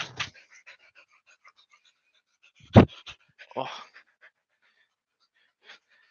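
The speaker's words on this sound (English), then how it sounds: "For those of you who haven't met her, she's a puppy." A young female puppy, about eight months old, gives soft panting breaths and brief whimpers in scattered bursts. A person murmurs once nearby, and the room is otherwise quiet.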